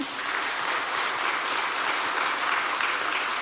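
A church congregation applauds teachers at a Friday late-night revival service, producing steady, sustained clapping from a large crowd that stays even throughout with no voices on top.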